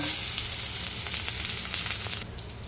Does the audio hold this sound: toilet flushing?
no